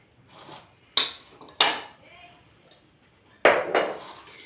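Whole spices and chicken tumbling into a metal cooking pot for a Thai-style chicken gravy, making several sharp clanks and clinks in short bursts, close by, with quiet gaps between.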